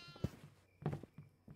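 A goat in the horror game Devour gives a few short bleats, one at about a quarter second and a louder, longer cry near the end, with quiet gaps and soft thumps between.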